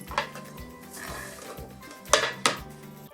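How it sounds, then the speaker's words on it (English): Chopped pieces for a lasagne are dropped into a saucepan, giving a few clattering metallic knocks and scrapes of pan and utensil at close range, with no speech. "Okay, you can add those into our saucepan."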